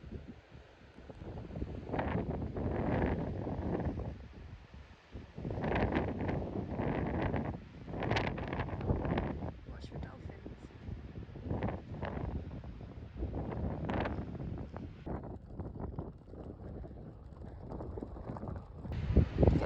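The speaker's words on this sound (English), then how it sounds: "We're cycling in a really strong, I think it's like southeasterly wind." Strong, gusty southeasterly wind buffets the microphone while cycling along the Cornwall coast. It roars in uneven surges and lulls throughout, with no clear talk.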